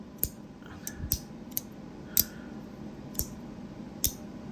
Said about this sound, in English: the magnets just aren't very clicky